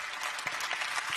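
A brief burst of audience applause greets the panelists at a Ukraine recovery conference in Germany, a short, moderately loud patter of clapping hands in a conference hall, heard alone.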